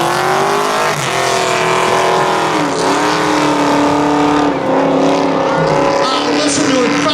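A Dodge drag racing car accelerates hard down the strip at a street-legal spectator drag event, a loud, dense engine roar with rising harmonic tones that sweeps through several gear changes, close and sustained.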